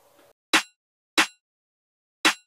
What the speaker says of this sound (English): This is a very common trap snare,